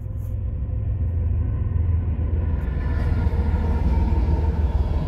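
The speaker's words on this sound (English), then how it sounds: "Here comes a empty coal drag heading west." An empty westbound coal freight train rolls past at Ashland, a loud, steady low rumble of wheels and cars on the rails, close by and continuous with no voices.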